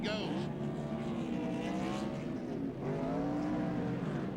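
The #46 Axiom Ford race truck accelerates hard off a corner and spins out at a 2000 NASCAR Craftsman Truck Series race in Memphis, its engine a loud, steady roar with rising and falling pitch under continuous commentary.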